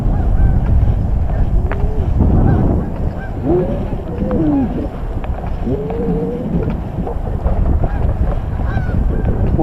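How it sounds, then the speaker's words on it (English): Geese honk repeatedly as they come in to land near a community college in northeastern Ohio, loud overlapping calls over steady wind rumble and the whoosh of a moving electric bike. "the geese are coming in to land"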